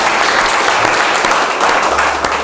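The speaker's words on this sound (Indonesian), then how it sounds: "Untuk mengakhiri ini kita beri tepuk tangan yang meriah untuk Mas Sastra." A crowd applauds steadily throughout, a dense wash of clapping hands with no pauses, fairly loud and close.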